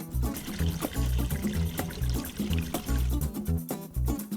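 Water poured into a plastic container for soaking water spinach seeds for a bucket-and-strainer soilless setup, a steady splashing fill with uneven gurgling bursts running close throughout.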